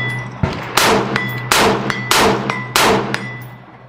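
Rifle shots at an outdoor shooting range while grouping at 50 yards: about five loud, close cracks at steady intervals, each followed by a metallic ring from steel targets, with a low hum underneath.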